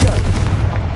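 A Confringo blasting curse explodes in Hogwarts Legacy: a dense, booming burst of blast noise that fills the whole second at close range, with no talk over it.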